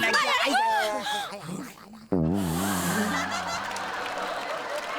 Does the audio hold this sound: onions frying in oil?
no